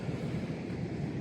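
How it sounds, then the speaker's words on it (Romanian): Strong sea waves break on a wild Romanian beach on a cold winter morning, heard as a steady, low, distant roar of surf with no voices. "valurile sunt destul de puternice azi"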